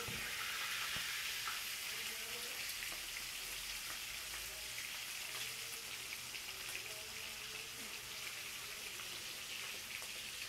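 Food frying in hot oil in a home kitchen makes a continuous, soft crackling sizzle, fairly quiet and even throughout, with no talk.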